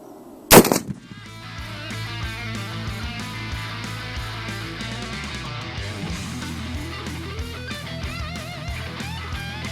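A .50 BMG rifle fires a spotter tracer round: a single loud, sharp blast near the start, followed by a long, dense ringing wash of noise that lingers to the end.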